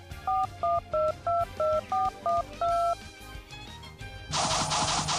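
A cell phone dialed inside a Yu-Gi-Oh video game gives a quick run of eight two-tone keypad beeps in an even rhythm, followed by a loud, bright, harsh burst of sound.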